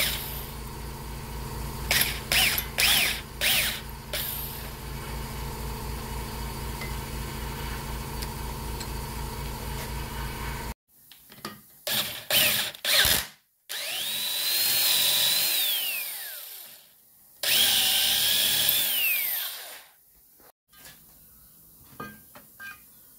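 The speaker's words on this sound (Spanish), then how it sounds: "Sacando lo que queda del tornillo" A power drill bores out the remains of a broken screw, with bursts of whirring that alternate with short pauses, then two longer, louder runs where the pitch sweeps up and down.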